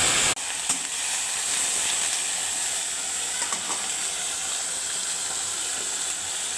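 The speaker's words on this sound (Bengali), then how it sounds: "দিয়ে দেবো তেল, দিয়ে দেবো এখন আমি 5 ফোড়ন। ভালো করে একটু ভেজে ভেজে নেব ভেন্ডিগুলো।" Okra frying in hot oil with five-spice seeds (panch phoron), a dense, steady sizzle and hiss that starts suddenly and continues close and loud, with occasional small pops and stirring clicks and no talking.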